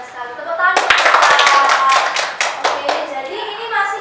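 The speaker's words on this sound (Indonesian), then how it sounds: "Iya, benar sekali. Tepuk tangan." A classroom of students applauds in a burst of brisk, overlapping hand claps lasting a few seconds, with voices speaking around it.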